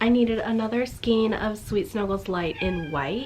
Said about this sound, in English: That's my cat. If you hear her screaming,